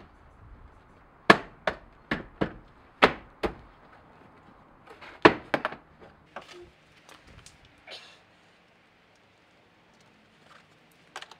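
A plastic interior trim cover is pushed back into place inside a Toyota LandCruiser, giving a series of sharp knocks and snaps, several in quick succession, followed by fainter clicks and near silence.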